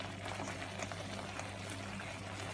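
Steady bubbling boil of a tamarind mix for puliyodharai simmering in a pan, continuous and close, with no talking.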